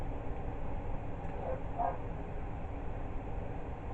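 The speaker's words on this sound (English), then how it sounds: "Sorry for the barking." A small miniature dachshund barks a couple of times, brief sharp yips over steady background noise.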